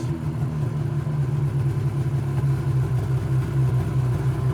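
A Ski-Doo Summit 800 snowmobile engine idles steadily at about 1850 to 2000 rpm, a loud, close, even rumble with no revving or talk over it.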